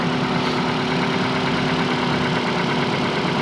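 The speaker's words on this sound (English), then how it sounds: "It's got the little 4-cylinder in it, automatic. Had it running for about 20 or so." A Ford XLT with a small four-cylinder engine and automatic transmission idles steadily at close range, giving a constant low hum with no speech.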